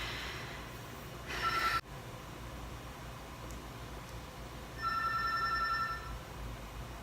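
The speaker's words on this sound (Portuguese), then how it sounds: "Sempre tem o telefone. Vamos aguardar um minuto que ele para" A telephone rings indoors, two distinct electronic ring bursts separated by a pause, moderately loud over a low room hum.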